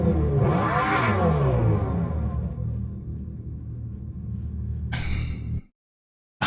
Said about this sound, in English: I understand that they put an exhaust system in there to give it a real sound